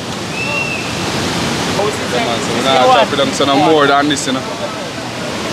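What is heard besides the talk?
waterfall and surf on an island shore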